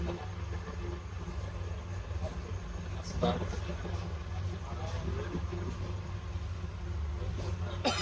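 Bijoy Express passenger train running as a steady low rumble with a constant mechanical drone, heard from on board, with a few sharper clanks and rattles around the middle.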